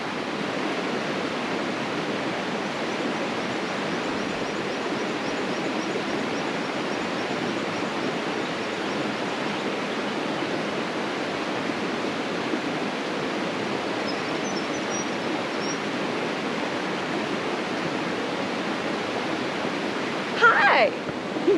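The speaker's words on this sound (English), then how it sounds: "show you this going down towards the top of the big waterfall" Steady broadband roar of a big waterfall seen from a walking track, a continuous rushing wash with no break, heard alone at fairly close range.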